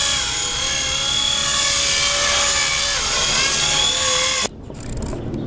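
A Blade 120SR RC helicopter lifts a payload with a loud, close, high whining rotor and motor buzz. The whine holds steady for several seconds, then cuts off abruptly, leaving quieter background noise.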